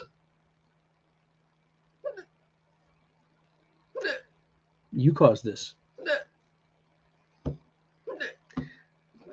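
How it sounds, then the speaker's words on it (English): A man hiccups several times in sharp, isolated bursts spaced a second or two apart over quiet room tone. He says a few words in between. "I have the hiccups."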